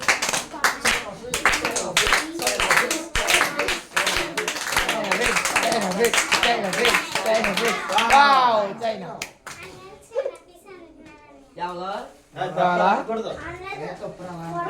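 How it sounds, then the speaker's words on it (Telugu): An audience of children claps for the winner of a Bible-verse spin-the-wheel quiz game. Quick, scattered hand claps fill the first half, mixed with excited voices. An adult then talks over a quieter room. "మరి ఈ రోజు విన్నర్ ఒకసారి మరి అందరూ వావ్ చప్పట్లు కొట్టండి అందరూ"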